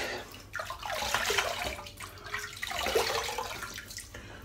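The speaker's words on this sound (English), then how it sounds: "Nice cold water, lovely jubbly." Cold water runs from a tap in short, soft splashing bursts, close by and fairly quiet, with brief pauses between the flows.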